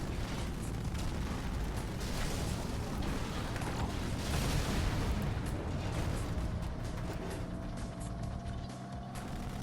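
Explosions and gunfire in the shooter game Arc Raiders, a dense, continuous roar of blasts, bursts and mechanical clatter filling the whole stretch, loud and unbroken with no clear gaps.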